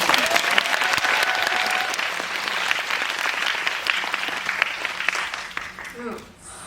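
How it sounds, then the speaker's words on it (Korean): Sustained applause from a seated audience at a special film screening Q&A in a cinema, a dense, steady roar of many hands lasting several seconds before tapering off at the end. "이때 박수를 한번 주세요"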